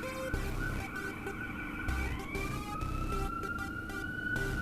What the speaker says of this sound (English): There's an ambulance passing.